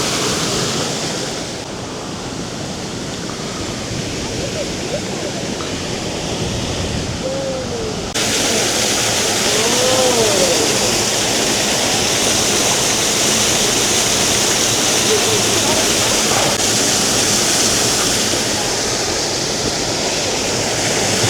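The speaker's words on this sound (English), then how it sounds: "And there's the waterfall that we were looking at from over there before." Steady roar of a waterfall at Rock City Gardens on Lookout Mountain, a broad rushing wash that stays loud and continuous throughout, with a faint hint of wind and no talk.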